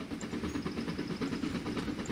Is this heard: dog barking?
no